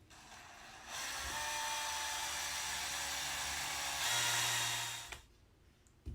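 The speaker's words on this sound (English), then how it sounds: "take your power drill" A power drill whirs steadily as it drives a screw through a molly into an aluminum rod, one sustained run that rises in pitch briefly before stopping abruptly, close and moderately loud.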